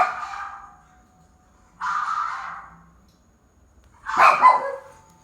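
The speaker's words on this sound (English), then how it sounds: "I think she's actually barking at someone right now." A female dog barks in three separate bursts spaced over several seconds, each one fairly loud and close, with near silence between them and no talking.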